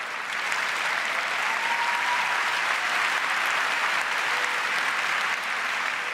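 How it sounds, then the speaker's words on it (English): A theatre audience at the Olivier Awards applauds in a broad, even wash of clapping that holds steady for several seconds and then eases slightly near the end. "I think we should give ourselves a round of applause for that"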